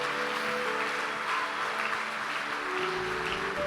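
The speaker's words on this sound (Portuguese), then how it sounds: "Quem pode aplaudir o Espírito Santo por essa palavra?" A church congregation claps steadily throughout, a dense even wash of many hands with a low sustained tone underneath from music or an organ.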